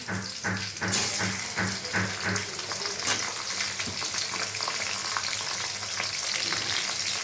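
Hilsa fish heads fry in a pan with green chilli and cumin, a dense, continuous sizzle with occasional stirring clatter, close and fairly loud.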